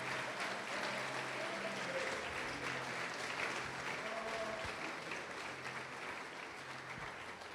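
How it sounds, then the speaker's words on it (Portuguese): A church congregation applauds to glorify the Lord during a sermon, a steady, dense wash of many hands clapping at moderate, somewhat distant level, holding for several seconds before easing slightly. "Pode aplaudir, glorificar o Senhor Jesus por isso"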